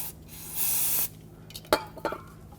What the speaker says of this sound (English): If there is any, you can use some brake parts cleaner and rinse it off.